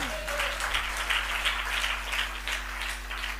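A church congregation at a fasting prayer service claps hands in praise, a brief, fairly faint patter of steady clapping over a low electrical hum.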